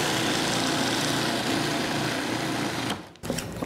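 A food processor whirs continuously while blending a chunky lentil loaf mixture, a loud steady motor hum that cuts out abruptly near the end before a brief restart.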